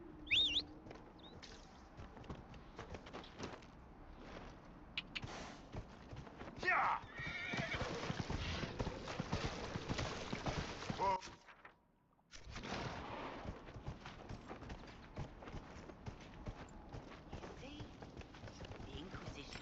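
Horse hooves clip-clop steadily with occasional neighing in the video game Dragon Age Inquisition, mixed with game sound effects and a voice talking, with a short quiet break partway through.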